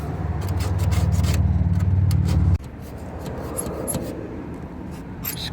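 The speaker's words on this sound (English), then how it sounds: "Give it a final scribe." A steel scribe or scratch tool drawn firmly across the sheet metal of a 1977 Cougar quarter panel, giving a steady close-up rasping rub that stops abruptly partway through, followed by quieter scraping and light taps.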